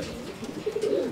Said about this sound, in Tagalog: O tapos ang dami pang ibon ni Idol dito